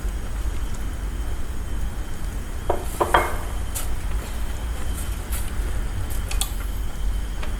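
Fatty hot pot beef is stirred in a pan for a Yoshinoya-style gyudon, with scattered utensil scrapes and clinks against the metal over a constant low kitchen background.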